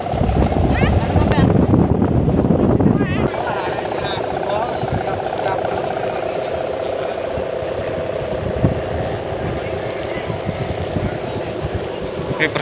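Strong storm wind at Lampon Beach roars and buffets the microphone nonstop, loud and blustery, with muffled voices faintly beneath the gusts.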